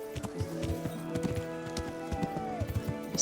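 Horse hooves clip-clop in the medieval role-playing game Kingdom Come: Deliverance, a steady run of close hoofbeats over a sustained tonal game background.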